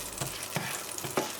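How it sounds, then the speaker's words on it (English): Butter frying in a pan on fairly high heat, a low, continuous sizzle close by with a few soft stirring scrapes and taps. "Add a bit of butter for frying."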